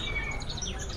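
Canaries chirp and tweet at an indoor bird kiosk on the ground floor of an old building, with bright high calls repeating over a busy low hum of the crowded market.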